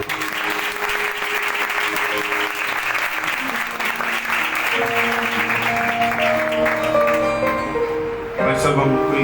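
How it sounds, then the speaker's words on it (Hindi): A church congregation at a worship service in Chaklala claps loudly and steadily for the whole stretch, dense and continuous, with voices and musical tones running beneath the applause. "यीशु नाम के लिए एक बार जोर से ताली।"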